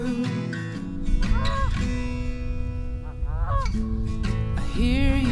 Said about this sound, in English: we were lucky enough to observe lots of geese up close.